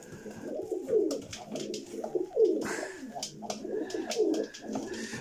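Pigeons cooing in a pigeon breeder's loft in Chełm: repeated soft, throaty coos in rolling phrases from a few birds, close by, with light rustling between calls and no clear speech.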